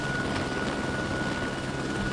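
Transport helicopter able to carry eleven troops, heard from inside in the eden* video game: a steady, dense rotor and engine drone fills the cabin at a constant loud level, with a faint thin whine on top and no voices.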